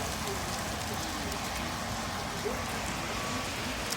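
Unseasonal hail pelts down outdoors in a steady, dense patter that fills the whole stretch, with a few sharper ticks of stones striking hard surfaces against the constant wash.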